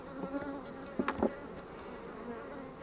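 Bees buzz softly around a hive during sunflower bloom, a low droning hum with a few closer passes near the middle, fairly quiet overall.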